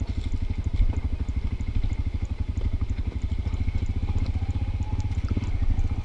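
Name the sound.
motorcycle engine idling, braking down a hill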